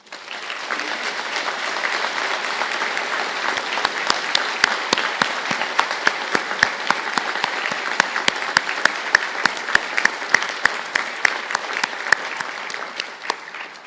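A hall audience at a university conferring ceremony applauds Bachelor of Science Honours in Medical Science graduates, steady moderate clapping with sharp individual claps standing out, sustained for about fourteen seconds without talk.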